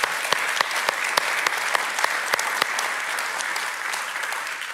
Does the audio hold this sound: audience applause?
yes